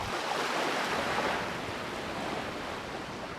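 Ocean waves wash up onto sand in a steady, broad hiss of surf that swells slightly and then eases, close by with no voices.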